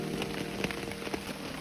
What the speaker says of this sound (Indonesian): Ternyata nggak habis lama dari itu udah mulai gerimis dulu.